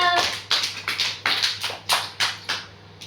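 Children clap hands in a few uneven bursts, sharp close claps spaced roughly every half second against a quiet room with a low steady hum.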